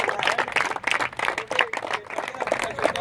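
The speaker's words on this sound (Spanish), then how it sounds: "Un aplauso para ustedes" Audience applause and clapping for a group at a youth welfare event with a football club, dense steady clapping with crowd noise throughout, fairly loud and close.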